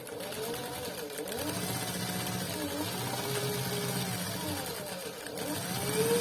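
A Siruba L818F-M1A industrial sewing machine, its motor set near 2800 rpm, runs steadily at speed with a continuous mechanical whir and rhythmic stitching hum, close and loud, swelling slightly near the end.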